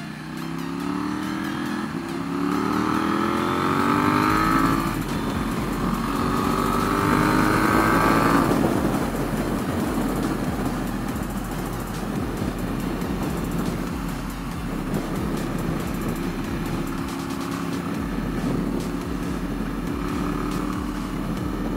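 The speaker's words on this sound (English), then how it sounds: "There's Gaby's nice machine, the Kawasaki Vulcan 1700." A Kawasaki Vulcan 1700 motorcycle rides through Harriman State Park, its engine droning loud and steady with rising and falling tones as it shifts and cruises, no talk.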